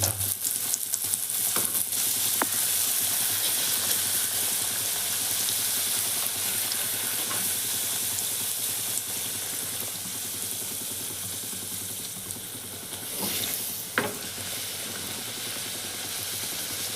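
Puris deep-frying in hot oil, a steady dense sizzle and crackle running unbroken throughout, with a few sharper pops and bursts standing out near the middle and end.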